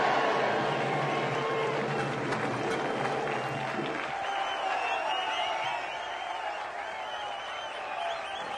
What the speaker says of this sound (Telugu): ఈలలు గోలలు